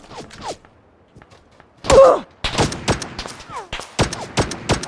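Pistol gunfire in a shooter game's custom mode: a burst of sharp close shots, then a rapid irregular string of cracks and thuds, with a voice calling out between them.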